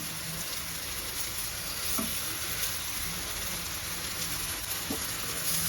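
Garden-fresh brinjal frying with masala in a pan, giving a continuous even sizzle and crackle close up, with faint occasional stirring and no voices.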